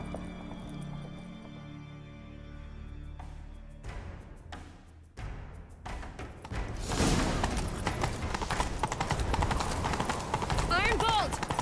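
In The Witcher 3, horse hooves pound in a fast galloping rhythm after quieter ambience, growing louder and closer, with a horse snort and game voices over the hoofbeats.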